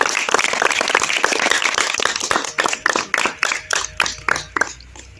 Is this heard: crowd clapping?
yes